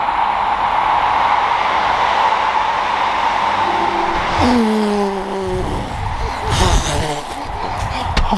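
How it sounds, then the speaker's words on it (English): A passing train blows its horn near an abandoned railway home, sustained tonal horn blasts rising over a steady rumbling background midway through, loud and fairly close. "That was a train going by, blowing his horn."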